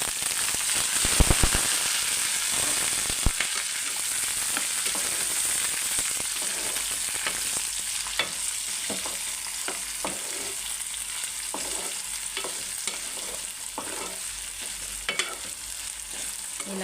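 Cauliflower frying in a pan for a chapati side dish, cornflour being added: a steady close sizzle and crackle runs throughout, broken by repeated scraping strokes of stirring, with no voices.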